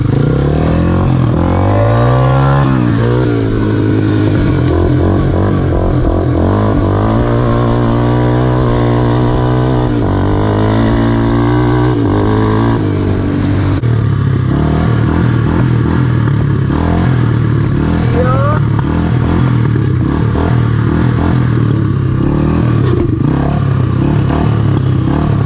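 A Honda 300EX ATV engine revs hard and loud through repeated throttle bursts while ripping and pulling wheelies, a dense rising and falling motor roar with rattling clatter and no talk.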